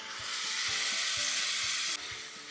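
Yogurt and spice mixture for baby potato kurma sizzling steadily in a hot pan, a continuous bright hiss with soft periodic stirring knocks underneath, fairly loud and close with no voices.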